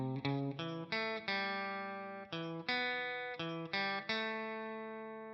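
Electric guitar picks a riff on the upper strings, a clear sequence of plucked, ringing notes with a short pause midway, played solo at low level.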